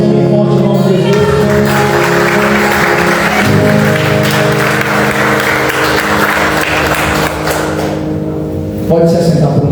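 A church congregation applauding during a celebration service with the Lord's Supper, loud sustained clapping blended with music and voices.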